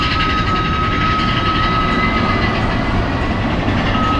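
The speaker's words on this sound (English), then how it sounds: "while it's just running through the track, it just sounds, you know, regular, like a regular steel coaster" A steel mine train roller coaster at Disneyland Paris rolls along its track, producing a loud, continuous rumbling roar with a faint high whine, steady and close for the whole stretch.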